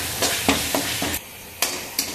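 Masala with kasuri methi sizzles in hot oil in a pan and is stirred, the spoon scraping in short regular strokes about every quarter second over a continuous low frying hiss.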